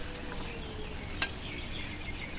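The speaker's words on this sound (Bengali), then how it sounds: "এভাবে আরও কিছুক্ষণ নেড়ে চেড়ে দেব।" Chicken tikka masala is stirred in a pan with a continuous soft frying hiss and one quick utensil click partway through, close and fairly quiet.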